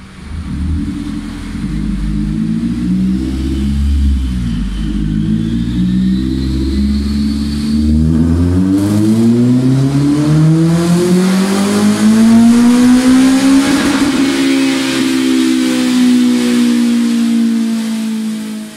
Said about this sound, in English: just yesterday he did a dyno run just to see what power it's making